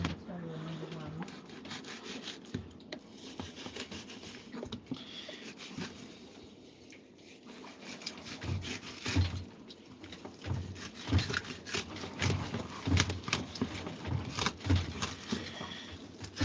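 A dull knife scrapes and saws through hair during a makeshift trim on a houseboat out on the open ocean, making rough rasping strokes that grow louder and more rhythmic, with faint talk early on.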